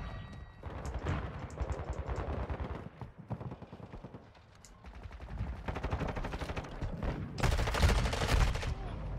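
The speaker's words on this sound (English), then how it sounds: "Bro, just teammate just shooting at me and stuff." Rapid automatic gunfire from a teammate in Call of Duty MW2 rattles in dense bursts, loud and close with brief pauses, and a louder volley near the end.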